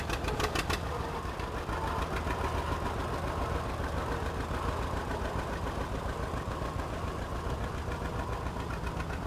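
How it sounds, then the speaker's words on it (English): A 1959 Minneapolis Moline G6 tractor engine runs steadily at an outdoor parade of old farm machinery, a continuous mid-distance chugging drone with rapid regular pulses. "this next tractor is a 1959 Minneapolis Moline G6"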